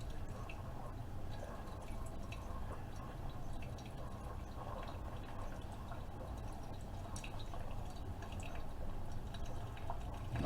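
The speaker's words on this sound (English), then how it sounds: "you can see the coffee begin to dispense" A Keurig K-Supreme Plus single-serve coffee maker dispenses coffee into a cup with a soft, steady dripping and trickling stream under a faint machine hum.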